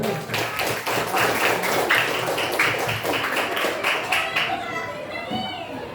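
Elementary pupils applaud in class, a brisk crowd of hands clapping for several seconds before the clapping dies down and a voice speaks near the end.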